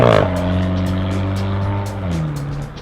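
Alfa Romeo 4C turbocharged engine while driving, a steady, loud engine drone with a slight pitch drop near the end and no talking.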